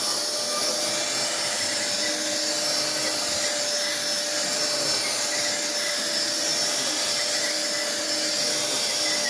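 A household vacuum cleaner runs continuously at close range, a steady loud whooshing hum with a faint high whine that holds unchanged throughout, with no talking.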